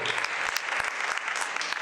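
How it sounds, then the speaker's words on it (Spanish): Enthusiastic congregation applause during a church service, dense rapid clapping filling the space continuously, moderately loud and close, with a few voices mixed faintly underneath. "Denle un fuerte aplauso a Jesús"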